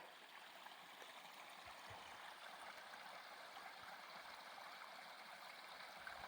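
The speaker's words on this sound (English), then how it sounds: "Listen to the sound of that water." Mountain stream on a House Mountain hiking trail in early April, a steady broadband rush of flowing water that holds an even level throughout with no voices.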